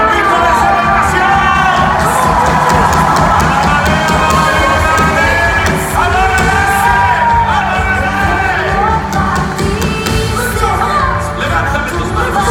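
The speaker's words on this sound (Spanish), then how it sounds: "Dale tu mejor grito de celebración." A church congregation at a large worship event in Guatemala shouts, whoops and cheers in celebration, a loud, dense crowd roar that holds steady throughout with mixed voices rising over it.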